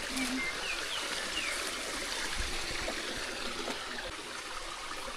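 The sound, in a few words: water flowing from garden hose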